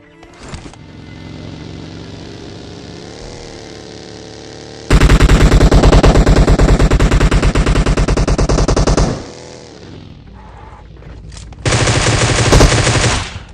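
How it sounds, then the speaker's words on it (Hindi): Loud bursts of rapid automatic M4 rifle fire in PUBG Mobile, a long steady stream and then a shorter one, over a constant background hum. "मेरे को सामने की तरफ से M4 चलने की आवाज़ आती है"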